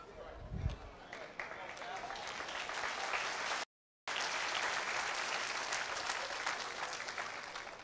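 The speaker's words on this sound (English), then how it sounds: "don't you dare clap if you're not one of the 200" A church congregation applauds during a Sunday service, a sustained patter of many hands heard at a modest distance, with a low thump near the start, voices mixed in and a brief gap of silence midway.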